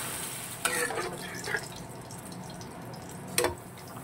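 Boiled soya chunks and potatoes are stirred through a masala in a pan and fried down, giving a soft, continuous sizzle with a few sharp scrapes and clinks of the spoon.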